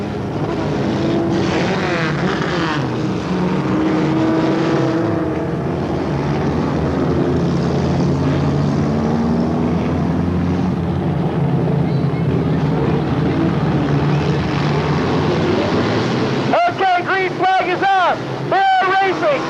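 Mini Stock race cars in the Mini Street Modified division roar off at the start of a feature race, a loud continuous engine din with wind buffeting and a crowd-level rumble, sharper bursts near the end.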